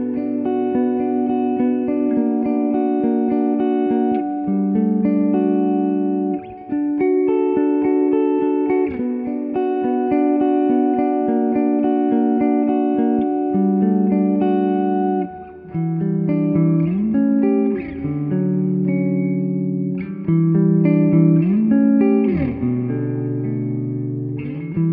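Electric guitar played on the clean channel of a solid state amp with reverb, sustained chords and single notes ringing out with a wash of reverb tail, loud and steady for the whole stretch, no talking.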